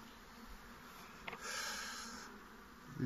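Honeybees gather at a hive entrance with a faint, soft buzzing that swells briefly midway, then fades back into a quiet background hum.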